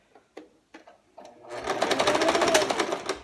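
A sewing machine back stitches a fabric waistband at a 5/8 inch seam allowance, starting with a few brief taps before a steady, loud, fast rhythmic stitching run that continues to the end.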